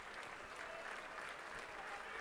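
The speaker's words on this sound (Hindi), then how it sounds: "मैं सबसे कहूँगा खड़े होके ताली बजा के उनका स्वागत करें" An audience claps steadily and continuously to welcome an arriving dignitary at a public speech gathering, a dense wash of many hands with no talk over it.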